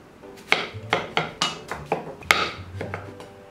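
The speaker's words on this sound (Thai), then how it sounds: "แล้วก็จะหั่นมันแบบนี้" A knife chops through food onto a cutting board, about nine sharp knocks at a steady, unhurried rhythm, close and clear.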